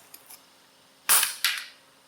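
A Gamo P-430 CO2 air pistol fires a single sharp pop, closely followed by a second crack, likely the pellet striking the target, after a couple of faint clicks. Nearby and otherwise quiet.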